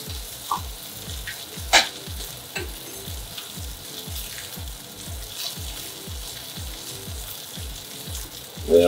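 Steak frying on a stovetop pan in nutty butter with shallots, onions, garlic and chili, a constant loud sizzle under a rapid rhythmic pulse of butter being spooned over, with occasional clinks.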